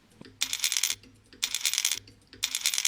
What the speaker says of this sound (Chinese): 我给它发了一个电圈发出咔咔声音的这么一个感觉